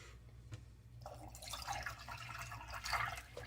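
Water trickles and splashes steadily into a coffee maker for a few seconds, a close, continuous pouring sound over a low hum.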